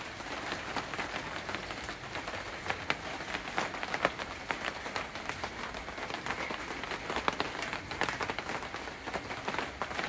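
Steady rain pattering down outdoors, a dense continuous hiss with scattered louder drops, no voices.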